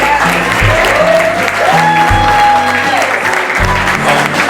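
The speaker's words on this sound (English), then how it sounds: "This has been a round of applause." Steady applause from a room full of people at a panel event, sustained and even throughout, with a few higher tonal sounds drifting over it.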